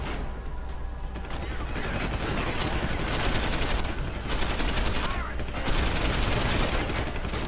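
Sustained gunfire in the video game Deus Ex: Human Revolution, dense rapid shots and mechanical clatter filling the whole stretch at a loud, steady level, with no talk.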